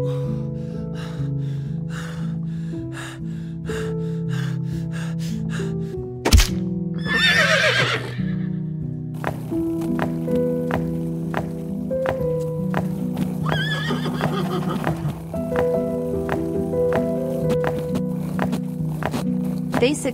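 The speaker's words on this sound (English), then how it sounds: "The horses felt very exhausted climbing the remaining slope." Horses neigh loudly, with repeated sharp whinnies and snorts over a steady clip-clop of hooves, busy rhythmic stepping throughout.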